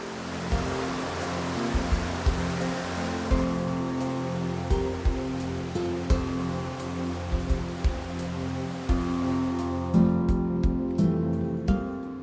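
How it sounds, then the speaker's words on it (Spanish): Mountain stream waterfalls and rocky water chutes rush in a continuous loud broadband roar, steady throughout, with no voices. "nos sorprende con alguno de sus espectáculos, como estos toboganes y saltos de agua."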